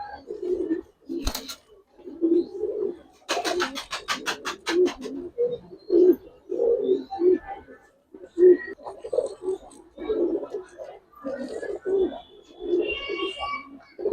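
A pair of Giribaz pigeons coo in a loft, with repeated low throaty coos pulsing steadily in short bursts, close and clear, with no talk over them.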